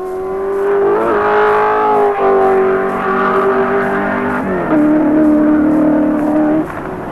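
A 1983 race car at Bathurst's Mount Panorama brakes briefly and takes a corner fast, its engine droning loud and close with pitch dips and surges as it slows and accelerates through the bend.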